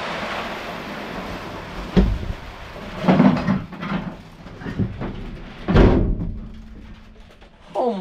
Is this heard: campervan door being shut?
yes